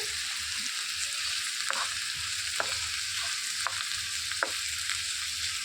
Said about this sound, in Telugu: ఉల్లిపాయలు బ్రౌన్ రంగు వచ్చే వరకు కూడా వేయించుకోవాలండి